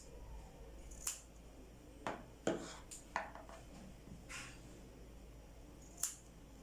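Scissors snipping notches into the sewn edges of fabric for a circle-skirt dress, about seven short crisp cuts at uneven intervals, close and quiet against a faint room hush.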